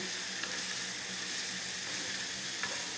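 Chicken feet with pepper sautéing in a pan, a steady close hiss of frying grease with faint clinks and scrapes of stirring, continuous and even throughout; no talking.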